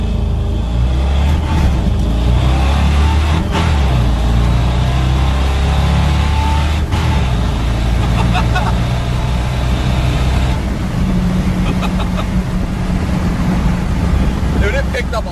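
A Dodge Dakota truck is driven hard from inside the cab, its loud engine and road roar steady throughout, with rattling and knocks and people talking over the noise.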